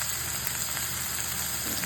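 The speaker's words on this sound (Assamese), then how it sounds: "এতিয়া মই চজিনাখিনি দি ভাজি লওঁ।" Moringa frying in oil with onion, ginger, garlic and spices gives a steady, even sizzle at low volume, continuous and without any voices.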